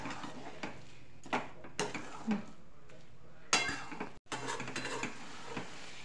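Carrot halwa stirred in a pan, scattered spoon scrapes and metal clinks against the cookware over a soft background hiss, close and fairly quiet, with no talk.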